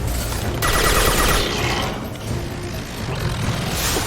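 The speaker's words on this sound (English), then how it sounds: "They're waging heavy fire!" Heavy gunfire in Mass Effect 2 Legendary Edition: a dense, sustained barrage of shots and mechanical clatter, loud and continuous, with sharp bursts and slight swells throughout, no voices over it.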